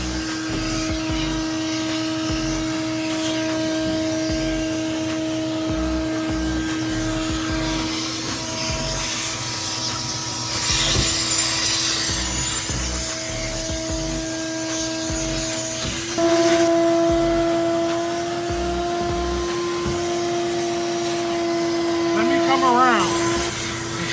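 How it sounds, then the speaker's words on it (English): Steady whine of a vacuum cleaner cleaning a car floor during sound deadening installation, running continuously for over twenty seconds with shifting pitch as the nozzle moves, close and loud, with people talking intermittently over it. "so I'm all done with the vacuum process"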